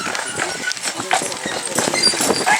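Carriage horses' hooves clip-clop on a street on Mackinac Island, an irregular run of quick clops under steady nearby talking and general outdoor bustle.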